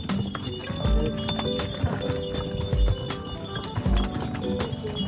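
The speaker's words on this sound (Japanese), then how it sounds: "登ってくるロバとすれ違いました。" Donkey hooves clop unevenly on a hard stone path close by on Santorini, with a small bell jingling along with the steps.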